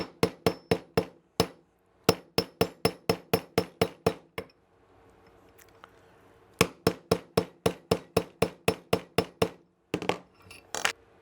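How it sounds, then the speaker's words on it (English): Rapid series of sharp metallic hammer taps drives a pin into a CZ P07 pistol, arriving in quick bursts of about ten strikes each with a short quiet pause between groups, close and clear. "it's nice to have a decent sized hammer to help you drive that pin through"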